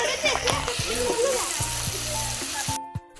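Water splashes and sloshes into a cooking pot of khichuri on a tub-built outdoor clay stove, a steady wet pour lasting a few seconds under nearby voices and household chatter, cutting off near the end.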